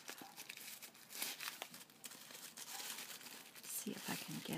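A paper package of stamps being opened up close: steady crinkling and rustling of paper with a few tearing bursts, continuous throughout.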